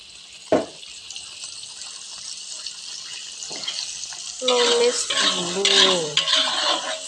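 Spice paste being stir-fried in a pan, with a few sharp utensil knocks and scrapes, then a louder burst of sizzling near the end, close by.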